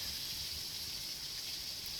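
A heavy rain shower at a campsite near a van and wet tent, a dense, steady hiss of falling water, soft but continuous with no other sounds.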